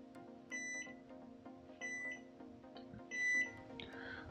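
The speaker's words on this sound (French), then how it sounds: "il y a un petit bip de fin" A UV sterilizer box signals the end of its cycle with three short electronic beep bursts at even intervals, a repeating high tone over a steady low hum, ending with a softer rustle.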